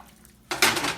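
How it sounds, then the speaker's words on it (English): A salmon fillet flipped in a pan: after a quiet moment, a sudden clatter and sizzling scrape of the spatula and pan, close and brief. "Best thing to do for salmon is to flip it."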